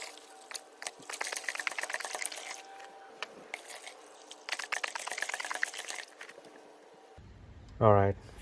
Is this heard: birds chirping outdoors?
no